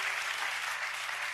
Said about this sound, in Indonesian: Kasih tepuk tangan yang paling dahsyat.